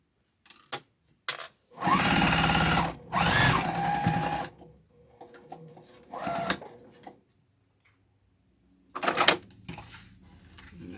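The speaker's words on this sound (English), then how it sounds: "now we're just going to sew down the sides, but we're not going to sew through the zipper" A sewing machine stitches down the sides of a zipper bag in quick bursts, a couple of long runs followed by shorter stop-start spurts and clicks between pauses, close and clear with no talking.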